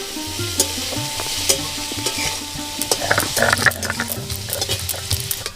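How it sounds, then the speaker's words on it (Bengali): Potatoes fry in hot oil with a steady sizzle, broken by repeated stirring scrapes and light clinks of a utensil against the pan, close and fairly loud, with no talking. "এবার আলুগুলোকে আমি লাল করে ভেজে নেব"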